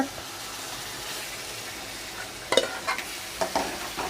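Low steady sizzle of hot oil, then cooked lentils go in around midway, bringing wet splattering and stirring noises.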